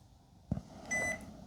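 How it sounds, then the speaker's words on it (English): A Nelko Bluetooth label maker powers on with a single short, clear electronic beep after a soft button click, faint and close in a quiet room. "So it beeps once, turns on."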